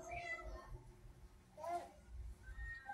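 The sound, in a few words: cat meowing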